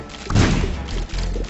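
A bomb goes off in The Binding of Isaac with a heavy, close thud that swells briefly and then leaves a low rumbling tail, loud and short.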